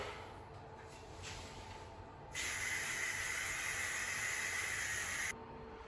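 Aerosol spray paint hissing onto a baseboard heating cover for a second coat: a few short puffs, then a long, steady close hiss of about three seconds that cuts off abruptly.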